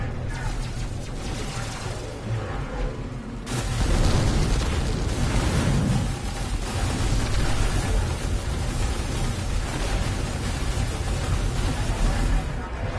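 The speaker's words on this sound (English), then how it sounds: "Let's do another bombing run." Bombing-run explosions in the space game No Man's Sky, a continuous loud roar of blasts and rumbling booms that jumps in intensity partway through, with someone talking over it.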